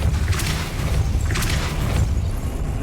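The Depulso spell fires in Hogwarts Legacy, giving a couple of dull booming bursts over a low rumbling game background.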